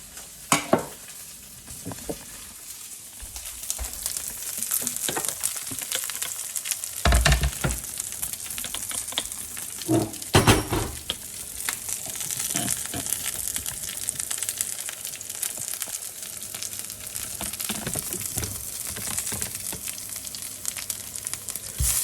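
Kale frying in a pan until crispy makes a steady, bright sizzle with scattered pops, crackles and occasional stirring scrapes, close and continuous with no talk.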